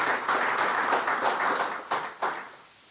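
A crowd applauds with brisk, dense clapping that holds steady, then thins out into a few last claps before fading.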